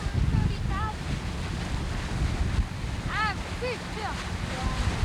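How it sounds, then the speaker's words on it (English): Ocean waves and steady wind noise roar continuously from aboard a moving boat at sea, with a few brief high chirping calls, likely birds, rising over the rumble. "Ocean."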